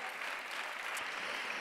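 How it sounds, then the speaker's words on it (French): A short burst of steady clapping from a crowd, fairly faint and even throughout. "Applaudissez."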